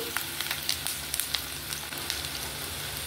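Onions and green chillies fry in a pan with a steady, close sizzle and scattered small crackles throughout, without any talking.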